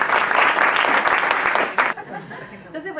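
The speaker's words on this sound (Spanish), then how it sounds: "Así que por favor le damos un fuerte aplauso." An audience at a short thesis-presentation event on occupational therapy breaks into loud, dense applause close by, sustained for about two seconds before cutting off abruptly, after which a voice begins talking.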